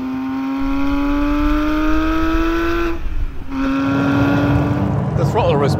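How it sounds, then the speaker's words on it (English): A naturally aspirated Porsche sports car engine revs hard and climbs in pitch, drops briefly, then roars back up with a loud, continuous howl close by. "What an engine it is, and what a noise it makes."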